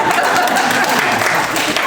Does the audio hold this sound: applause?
yes